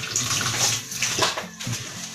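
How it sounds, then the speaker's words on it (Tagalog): Water pours steadily into a pot of mung bean soup, a continuous close splashing and gurgling flow with no talk. "Lagyan pa natin ng water."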